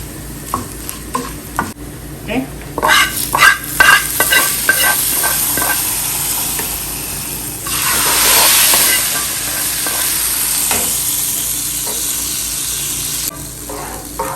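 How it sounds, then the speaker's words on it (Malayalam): Spices tempering and onions frying for a Kerala ozhichu curry: steady loud sizzling in a hot pan with repeated stirring scrapes and clinks, a burst of hissing steam midway, then continuous frying. "നമ്മുടെ ഒഴിച്ചു കറിക്ക് കട പൊട്ടിക്കുവാണ് ഈ ഉള്ളി ഒന്ന് മൂത്ത് വരുമ്പോഴത്തേക്കും"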